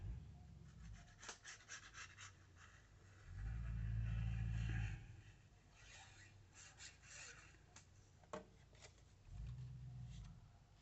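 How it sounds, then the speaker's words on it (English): A truck pulls in outside a house, a muffled low engine rumble that swells twice, briefly and fairly loud, over quiet indoor rustling and scraping. "If you hear that loud noise, it's just a vehicle outside."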